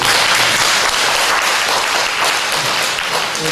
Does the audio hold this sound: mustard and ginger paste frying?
no